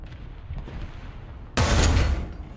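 A tank gun fires in a tank video game, a single loud, close blast that breaks in sharply after a stretch of low rumbling engine noise and rings on briefly.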